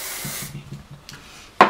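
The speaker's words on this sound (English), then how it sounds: "I'm just going to spray through the ends like this and just run it through" A short hiss of hair spray at the start, then quiet rubbing through the hair ends, ending with another brief sharp burst of spray.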